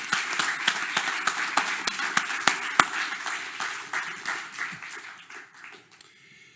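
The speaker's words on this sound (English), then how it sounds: "So let's give a clap to these guys." Scattered claps from a conference audience at an AI talk, fairly close and uneven, thinning out toward the end, with no speech over them.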